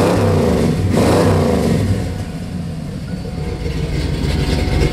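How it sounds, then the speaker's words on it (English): A 1987 Ford Bronco with dual exhaust and a big cam revs loudly up close, a steady low rumble swelling in the first two seconds before settling back to a rough, heavy idle. "This is dual exhaust."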